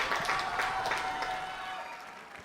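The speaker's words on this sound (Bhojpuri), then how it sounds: "एक बार जोरदार तालियां" A crowd of audience members at a Bhojpuri stage event claps steadily and fairly loudly for the whole stretch, a dense wash of handclaps with no voices standing out.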